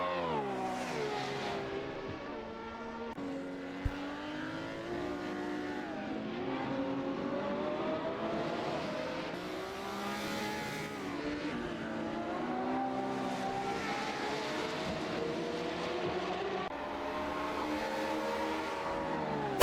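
Front-engine, rear-wheel-drive Ferrari racing around the Imola circuit among a field of Ferraris, its engine note rising and falling steadily through gear changes and revs for about twenty seconds, loud and continuous with no talk.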